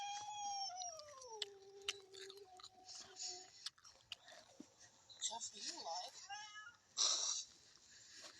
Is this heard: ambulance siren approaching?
no